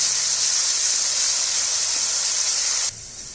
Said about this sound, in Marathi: जी आपण मिरची कुठून घेतली होती ना ती याच्यामध्ये आपण टाकून घेणार आहोत चांगली आपण तेलामध्ये परतून घ्यायची